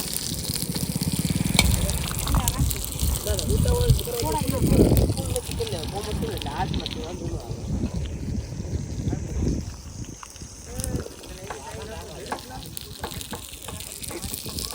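Chilies frying in a pot of oil at an outdoor community cooking service, a steady loud sizzle and bubbling with stirring, under several people talking throughout.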